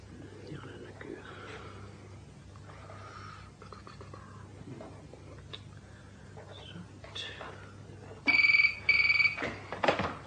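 A telephone in an old radio drama rings unanswered: two loud bursts of ringing near the end, after a stretch of quiet rustling and faint murmured talk.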